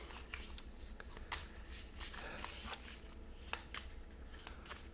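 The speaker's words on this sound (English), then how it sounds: "I think I'm just shuffling the decks up now." Decks of cards for the Dark Souls card game being shuffled at a table: a steady run of soft riffling and flicking snaps lasting several seconds, close by and fairly quiet, with no talking.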